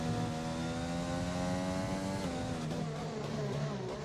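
F1 cars in a racing video game lapping a track at the Australian round, several engines droning with layered high-pitched whine, one engine note shifting downward partway through.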